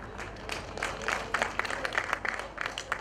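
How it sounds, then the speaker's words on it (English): A large crowd of people applauds at a regional trade fair, a dense, steady patter of many hands clapping with a faint hint of murmuring underneath. "You're so many with your clapping."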